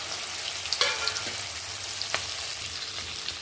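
Okra added to a hot oil tempering with asafoetida sizzles loudly and steadily, a close dense hiss with a few sharp crackles and clinks, no talking.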